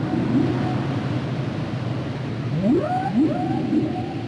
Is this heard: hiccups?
no